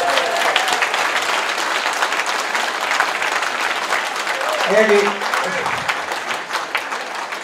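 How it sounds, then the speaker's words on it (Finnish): An audience applauds at a Finnish instrumental guitar music event honoring a band, a dense, sustained wash of clapping that stays loud throughout while someone talks over it. "Ja annetaanpa sille aplodit heti tässä kohtaa."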